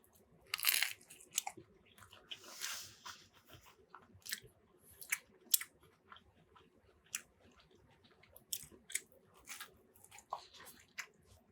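Close, crisp crunching of a fried dough panzerotto being chewed, with irregular bites and munches spread across the clip and quiet pauses between them.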